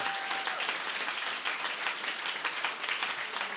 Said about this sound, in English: Ladies and gentlemen, a big round of applause for Tom Tully and Paul Willson.